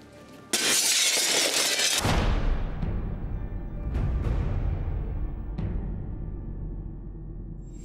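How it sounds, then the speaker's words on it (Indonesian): A glass mirror is thrown and shatters with one loud, bright crash, followed by a long ringing tail of falling shards with several smaller tinkling impacts as it fades, and no voices. "biarkan kamu melempar kaca tersebut"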